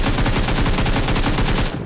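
Rapid, loud shotgun fire in PUBG Mobile on the Livik map, a tight run of blasts in quick succession that stops abruptly near the end, with no talk.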